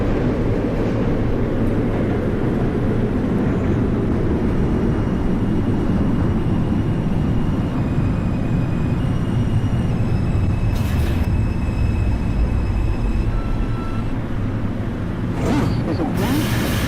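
An NYC subway R142 train on the 2 line running in the OpenBVE train simulator: continuous close rumbling and rattling of the moving train, with a few short higher-pitched squeals near the end.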